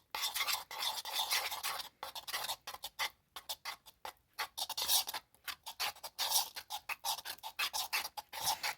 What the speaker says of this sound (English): so I'm just gonna keep stirring it up